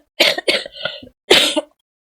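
A person lets out a few quick, close coughs in succession, then after a short pause a single harsher cough or throat clearing, all loud and alone with no talking.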